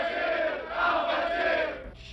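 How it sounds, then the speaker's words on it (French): A crowd of voices cheers and claps together in a sustained burst, loud and close, tapering off near the end. "On s'applaudit, on s'assoit."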